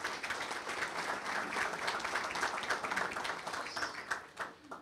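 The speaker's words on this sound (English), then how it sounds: "Go ahead, give that a round of applause." An audience at a city address claps together in a moderate, steady round of applause, somewhat distant and lasting a few seconds before tapering off.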